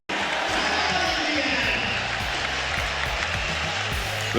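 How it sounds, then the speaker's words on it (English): A packed Madison Square Garden crowd roars steadily through a Knicks game, a continuous dense wall of cheering with ball bounces and arena noise underneath, voices blending throughout. "crowd loves it here at MSG"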